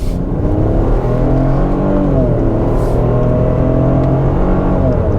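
The 1.5-liter engine of a 2021 Ford Bronco Sport Big Bend SUV drones loudly and close, revving with rising and falling pitch as it accelerates, a steady strained hum throughout.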